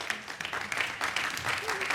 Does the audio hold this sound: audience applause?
yes